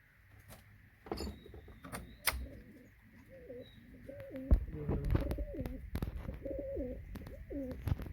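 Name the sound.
pigeon chick cooing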